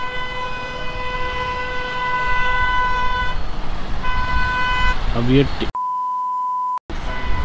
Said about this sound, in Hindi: लेकिन जबरदस्ती होरन दिए जा रहा है